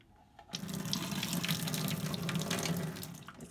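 Hot water runs steadily from a tap, rinsing a gutta-resist stylus used for silk scarf painting, a loud continuous splashing stream lasting about three seconds before tapering off.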